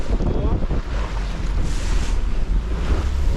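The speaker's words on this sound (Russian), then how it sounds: "Воу, какие волны." Sea waves wash and surge around a boat passing Tasaral island, a dense, loud rush of water mixed with wind buffeting the microphone.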